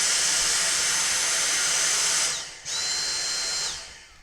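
A Dyson V6 SV03 stick vacuum fitted with a replacement Yaber battery pack runs in max mode, a loud close high-pitched motor whine that cuts out briefly, surges back at a sharper pitch, then winds down.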